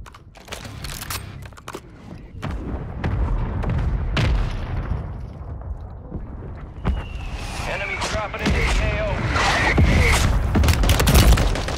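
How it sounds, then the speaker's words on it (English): A mortar is thrown and explodes in a shooter video game, giving deep booms and sharp blasts among scattered gunfire while players talk throughout. "Throwing the mortar just to see what I can do."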